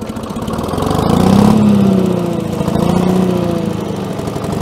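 An old Allis Chalmers track loader engine, left sitting for many years, starts up and runs loudly at close range, swelling in a low steady roar and then settling into an even idle.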